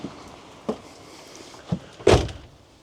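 Habitation door of a 2004 Hymer B654 integrated motorhome being opened, heard close: a few soft clicks and knocks, then a louder latch thunk and rattle near the end, with no voices.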